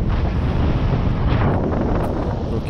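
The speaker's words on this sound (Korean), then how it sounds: "이렇게 따뜻한 바람이 불어주면은 일단 비행할 때는 굉장히 좋아요" Warm wind rushes steadily past during a paraglider's flight under low cloud, a loud, continuous roaring buffet across the microphone with no voices.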